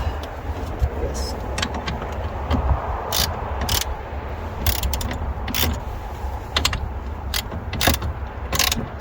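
Ratcheting, mechanical clicks and clunks from tightening a clamp on an Undercover Armor Flex tonneau cover on a 2021 Honda Ridgeline, repeated in short bursts close by over steady background noise, with people talking intermittently.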